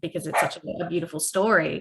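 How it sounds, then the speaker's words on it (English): A dog barks a few short times in the background while a person keeps talking over it. "is that a dog?"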